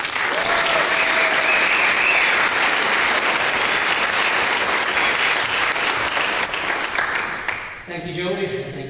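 An academic audience applauds to welcome the college dean at a scholars' council event, sustained loud clapping that fades near the end as a voice begins speaking.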